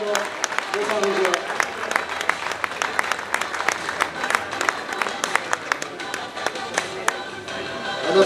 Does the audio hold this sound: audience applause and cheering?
yes